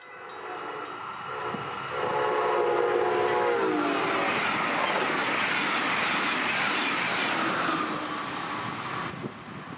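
A southbound Brightline passenger train speeds past at about 90 mph on the line at Fort Pierce, South Florida, its horn sounding early before a loud, sustained roar of wheels and cars that fades toward the end.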